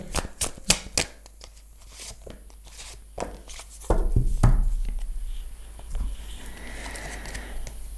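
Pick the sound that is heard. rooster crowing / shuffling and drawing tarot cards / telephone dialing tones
shuffling and drawing tarot cards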